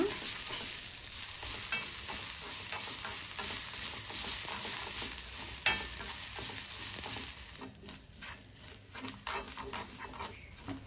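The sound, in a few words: coconut being lightly roasted and stirred in a pan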